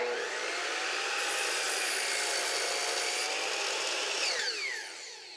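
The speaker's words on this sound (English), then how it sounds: "We're using a finish blade on this project just so we get a really clean cut." A power saw fitted with a finish blade cuts through a board for a shelf utility rail, a loud, steady high whine under load that drops and trails off as the blade spins down near the end.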